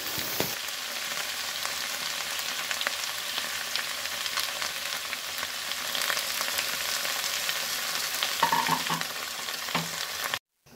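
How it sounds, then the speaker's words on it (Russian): Steady, crackling sizzle of potatoes frying in a pan, with occasional soft scrapes of stirring, continuous and fairly close, ending abruptly. "Пока картошка жарится"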